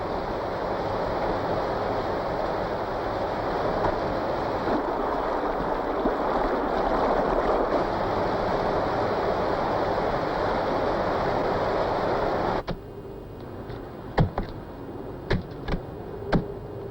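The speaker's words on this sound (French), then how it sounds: "Des dizaines de cascades y mènent un ballet fou dans les hautes lumières." Dozens of waterfalls pouring down the cliffs of the Cirque de Gavarnie in the Pyrenees, a loud, continuous rushing roar that cuts off abruptly, leaving quiet with a few sharp knocks.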